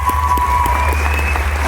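An audience at an awards evening in a leisure-centre hall applauds for a brief moment. The clapping is dense and steady over a low hum, and a tone rises through the middle.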